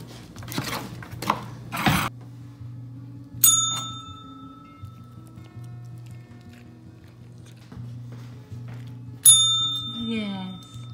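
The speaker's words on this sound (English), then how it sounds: "Ring the bell." A goat rings a small bell twice, each a bright metallic ding with a long fading ring, the second followed by a quick jangle; soft background talk and shuffling run throughout.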